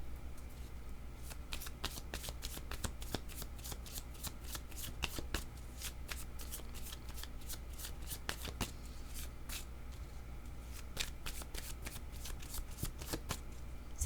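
A deck of cards shuffled for a reading, with repeated crisp riffling bursts and flicks at a steady pace, close and quiet, with no talking.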